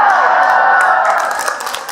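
Audience clapping during an Islamic sermon, a dense, steady patter of many hands fading slightly toward the end, with crowd murmur mixed in.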